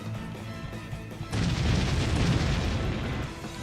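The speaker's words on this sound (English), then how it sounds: "we're getting cannon fire shot down on us" Heavy booming cannon fire in the Deltarune video game, a sudden loud barrage that rumbles on continuously after a quieter musical stretch.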